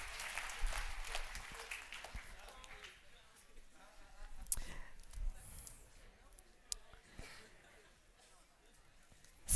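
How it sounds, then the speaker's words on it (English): Keynote audience members clap for the people around them, a faint, scattered patter of hand claps with uneven bursts and a few sharper slaps, quiet and distant throughout. "So give an applause to your friends around you."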